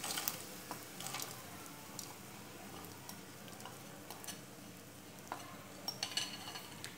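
Sabudana khichdi mixed with peanut powder, salt and sugar being sautéed in a pan, giving a soft, steady sizzle with scattered scraping stirs and light utensil clinks throughout, no voices.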